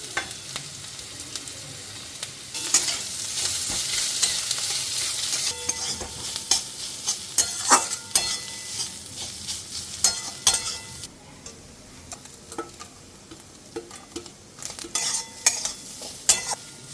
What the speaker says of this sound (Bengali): বেশি ভাজবো না একদম হালকা একটু ভাজবো এবার চিকেনগুলো দিয়ে দেবো